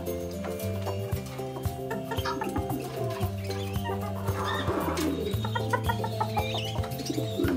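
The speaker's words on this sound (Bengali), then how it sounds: "একটা মোরগের সাথে 2টা মুরগি রাখছে, আর এখানে 4টা মুরগি রাখছি" Several chickens, hens and roosters, cluck and murmur softly nearby over a steady mechanical hum, with scattered short calls throughout.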